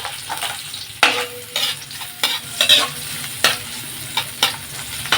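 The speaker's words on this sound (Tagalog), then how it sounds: "Lagyan na natin ng konting mantika para igisa natin ang ating sibuyas." Chopped onion sautés in a little oil in a wok for lomi, giving a low steady sizzle broken by repeated sharp scrapes and clacks of a spatula stirring the pan.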